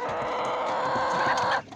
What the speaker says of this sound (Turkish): Yumurtacı tavuklarımız da burada arkadaşlar.